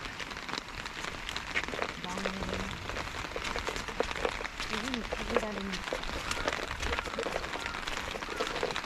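Steady rain falls outdoors during night-time light-game squid fishing, a dense continuous patter throughout with faint sounds of people nearby.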